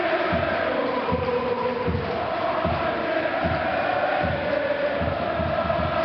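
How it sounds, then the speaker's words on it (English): Dense, roaring football crowd at the Racecourse stadium during a Wrexham vs Notts County National League match, a loud steady wall of noise with rhythmic chanting pulses throughout. "Palmer, what a noise at the racecourse"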